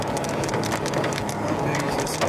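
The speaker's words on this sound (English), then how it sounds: "How big is this hail?" Hailstones hammer down hard during a tornado storm, a dense, steady clatter of ice striking surfaces across the whole stretch, loud and close with no pause.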